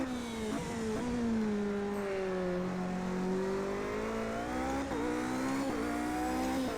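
Race car in Project CARS, a high-downforce car, accelerating out of a corner: a loud, continuous engine note climbing steadily in pitch through the gears, with brief shift dips.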